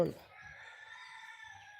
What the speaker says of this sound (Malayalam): കോഴിക്കുട്ടികളൊക്കെ അങ്ങനെ നിലവിളിച്ച് നടക്കുന്നുണ്ട്